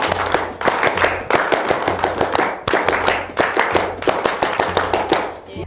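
A group of Pramuka scouts performs their rhythmic clap in unison, sharp patterned bursts of claps repeated in sequences, close and loud, with a short pause between rounds.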